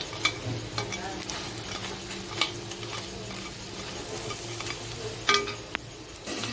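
Okra frying in a pan, a continuous close sizzle with occasional stirring clicks and scrapes of a utensil against the pan, steady throughout.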